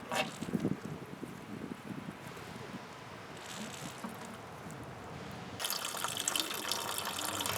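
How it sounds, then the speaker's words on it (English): Gasoline pumped by squeezing a primer bulb on a bass boat outboard fuel line, splashing and trickling into a dirty bucket; steady liquid pouring and dripping close by, growing louder and fuller toward the end, with no talk. "pumping the gas into a dirty bucket"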